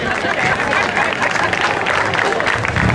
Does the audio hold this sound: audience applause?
yes